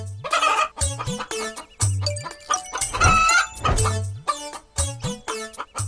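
Chickens and a rooster in a Bangla cartoon cluck loudly and close up in a rapid string of short, bright calls, with a few longer crowing-like cries between them. No voices are heard.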